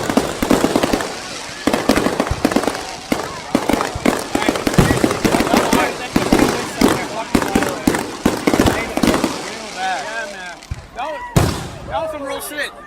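Fireworks display exploding in rapid succession, dense loud cracks and booms crowding together outdoors, then thinning to scattered pops as people talk and exclaim over them.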